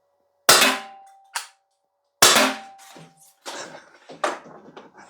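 An Umarex T4E TR68 .68 caliber paintball revolver firing rubber balls outdoors, two sharp loud pops each followed by a brief metallic ring, then several lighter clicks and clacks of handling.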